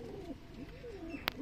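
Desi pigeons, Beldanga birds with yellow eyes kept as a pair, coo in a soft, rolling, repeated pattern close by, with one short sharp click near the end.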